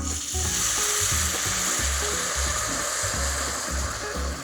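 Sparkling Blanc de Blancs wine poured onto arborio rice toasting in hot olive oil for risotto, giving a loud, steady sizzle and crackle with stirring scrapes throughout, no voices.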